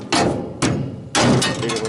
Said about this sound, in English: beat it with a hammer one time